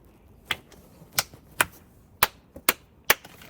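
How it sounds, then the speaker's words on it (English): About seven sharp, separate hand claps at an uneven pace, close and fairly loud, with no talking over them. "So I'm gonna clap."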